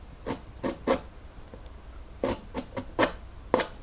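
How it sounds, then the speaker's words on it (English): A painting knife scrapes oil paint across canvas in short, rasping strokes, several bursts in two clusters with pauses between, close and fairly loud. "take this knife sometimes and you can scrape the paint out"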